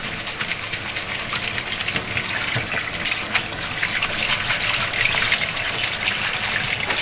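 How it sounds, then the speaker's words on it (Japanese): Tap water runs steadily into a metal colander of freshly boiled soba noodles during rinsing, a continuous close hiss and gush with no talking. "流水で流す。"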